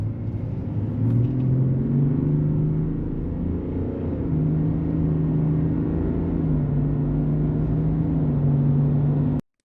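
A 2024 Chevrolet ZR2 truck with a 3.0 Duramax diesel and a PPE Zilla exhaust pipe idles and revs with a steady, deep rumble, its pitch drifting gently up and down before cutting off abruptly.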